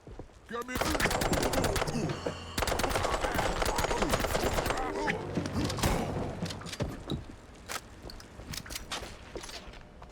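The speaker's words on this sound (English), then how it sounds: "was that gunfire just now? Like right outside?" Gunfire from the video game Mouse: P.I. for Hire: dense, rapid bursts of shots crackle for several seconds, then thin out into scattered cracks as the barrage tapers off.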